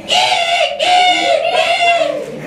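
A voice imitates a monkey, screeching in high, shrill, wavering bursts, loud and close, with a brief break between cries.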